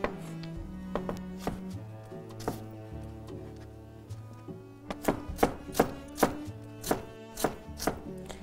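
Sharp, regular knife chops on a board as a carrot is cut into strips, a quick run of close, crisp strikes that grow louder and more evenly spaced toward the end, heard over soft background music.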